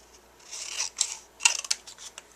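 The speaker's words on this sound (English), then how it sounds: "we'll go ahead and just trim this with a scissor" Scissors snip through paper while trimming a small Christmas card tag, a series of short crisp cuts rising to a cluster of sharper snips near the end, close and fairly quiet with no talking.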